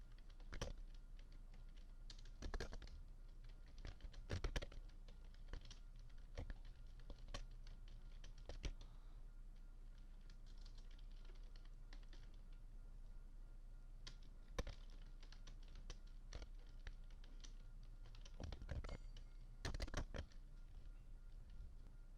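Soft clicks and patters of typing on a computer keyboard come in short irregular bursts with pauses, faint and close, over a low steady hum with no talk.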